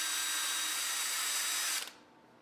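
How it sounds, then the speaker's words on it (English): A power drill bores screw holes into a wooden intarsia, a steady close whine that runs for nearly two seconds before suddenly cutting off into quiet. "So I am drilling and thinking I need to be careful not to go too deep"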